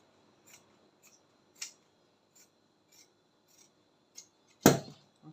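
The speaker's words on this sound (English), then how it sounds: "So all I'm going to do now is to cut or trim off." Scissors snip through the fabric of a corset bra cup as it is trimmed, a series of sparse, crisp close cuts at uneven intervals, the last one noticeably louder, with near silence between them.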